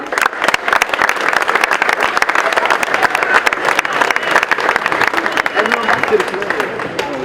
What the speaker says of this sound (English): Just a round of applause for Pascal, please.